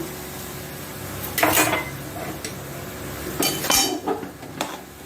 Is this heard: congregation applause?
no